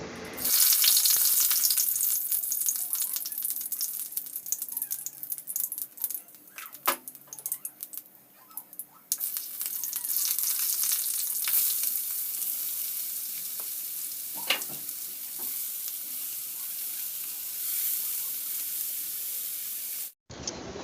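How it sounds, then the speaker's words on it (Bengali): Mung dal fries in a kadai with a continuous close sizzle, broken by occasional scraping and clinking as it is stirred over about twenty seconds. "মুগ ডালটাকে একটু ভেজে নিচ্ছি এবার"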